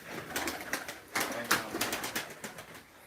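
Gökbenek pigeons in a loft coo softly and repeatedly in short, uneven bursts, fairly close but quiet, with a voice faintly in the mix.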